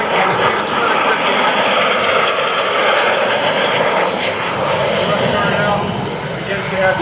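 Loud, steady roar of an L-39 Albatross jet trainer on a low-speed flyby at an air show, about 250 speed, crossing left to right; broadband engine noise fills the whole stretch, dipping slightly near the end.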